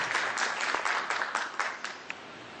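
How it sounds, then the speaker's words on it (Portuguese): Audience applause at a public administration seminar, a steady wash of clapping at moderate distance that holds evenly throughout with no voices over it. "Então, com vocês, Marcos Doel, a quem eu saúdo com a salva de palmas."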